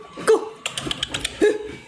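A person imitates a dog, giving a few short, sharp barking yelps in quick succession with brief gaps between them, loud and close.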